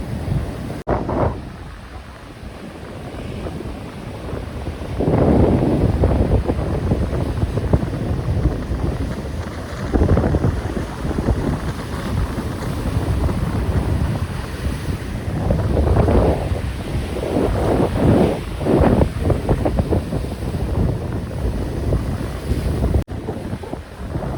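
Strong wind buffets the microphone while sea waves surge and wash in repeatedly, a continuous roaring backdrop with no voices.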